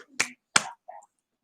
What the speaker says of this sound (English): You gotta clap the boots.